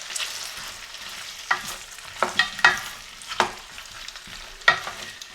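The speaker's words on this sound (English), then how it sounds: "The idea is to just layer all of these potatoes with that butter and some oil so that it's slightly fried" Potatoes being stirred in a pan with butter and oil over medium heat, a soft steady sizzle of frying broken by several scraping, clattering spoon strokes against the pan, close and alone.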